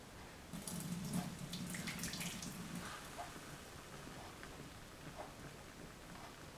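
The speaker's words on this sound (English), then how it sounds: "Now we pour the tea." Jasmine pearl tea is poured from a small covered vessel, a soft, close trickle of liquid that fades gradually into quiet room tone.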